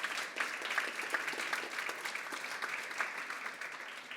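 Audience clapping at a community building event, a steady patter of many hands at moderate distance with individual claps distinct, sustained without cheering.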